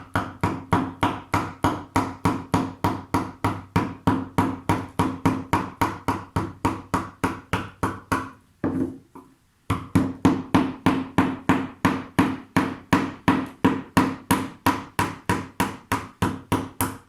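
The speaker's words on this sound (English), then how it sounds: "I do everything by hand, so I have these chisels" Painted wood layers are carved by hand with chisels: a steady run of crisp, evenly spaced knocking strikes, close and fairly loud, pauses briefly midway, then resumes at the same brisk rhythm.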